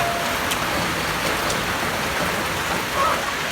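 Heavy rain pours down steadily in a rural Thai village setting, a dense, even hiss filling the scene from start to finish with no voices over it.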